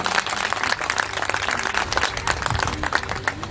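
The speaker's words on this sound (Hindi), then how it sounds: "जोरदार तालियां" An audience breaks into loud, dense applause at a stage event, a continuous burst of many hands clapping together for a few seconds.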